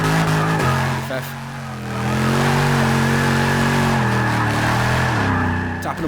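A Dodge Challenger Hellcat engine drones close up while the car is driven. The note shifts pitch as it revs and eases, and a person talks over it.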